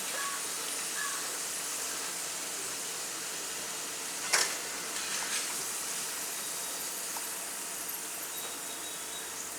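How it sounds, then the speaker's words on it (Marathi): Potato pakoda fritters fry in hot oil, giving a steady, moderately quiet sizzling hiss with a brief sharper crackle midway. "आता हे आतपर्यंत पण चांगले भाजले जातात।"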